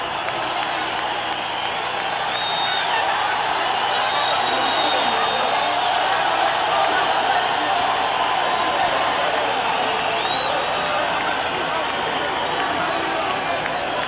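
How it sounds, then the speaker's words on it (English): Boxing arena crowd roaring continuously as Julio Cesar Chavez climbs into the ring before facing Kostya Tszyu, a dense, sustained wall of cheering and applause with a commentator's voice running underneath. "and the crowd erupts"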